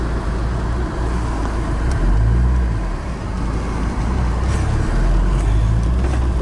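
Alfa Romeo 164 engine pulling steadily under acceleration while driving, a continuous low rumble with a gentle swell in revs, heard from inside the car.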